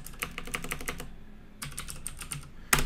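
Typing on a computer keyboard, with close, quick bursts of key clicks, a short pause, then more rapid keystrokes ending in one firmer key press.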